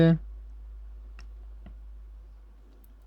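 Two faint, quick mouse clicks in SPSS statistics software, heard in a quiet room right after a short burst of voice.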